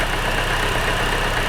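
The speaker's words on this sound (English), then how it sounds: "you can probably hear it sounds fine. I mean, there's a clacking, but that's the flywheel." A car engine idles steadily and smoothly up close, with a faint repetitive clacking from the flywheel woven into the even mechanical drone.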